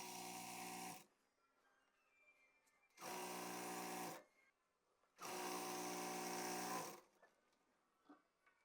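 Domestic sewing machine running three separate bursts of stitching on a six-panel palazzo, each burst steady and loud with short quiet pauses between them, no talking.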